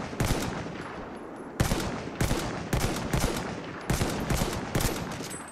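Gunfire from a weapon in the video game Battlefield 1: loud bursts of rapid shots in several separate volleys with brief pauses between them, close and dominant, with no speech.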